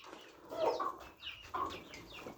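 Poultry chickens cluck in a few short, soft bursts, quiet and fairly close, with no talking over them.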